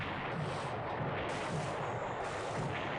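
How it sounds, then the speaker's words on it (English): Torpedo strikes on the aircraft carrier Kaga in a naval war video game, heard as a constant rumbling barrage of booms and blasts, fairly faint and unbroken, with no voices. "Another torpedo into the Kaga."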